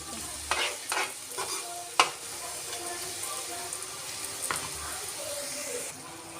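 Ground tomato goes into bitter gourd frying in a pan for a thick relish. A spoon scrapes and stirs with a few sharp knocks against the pan, over a soft, steady sizzle close by.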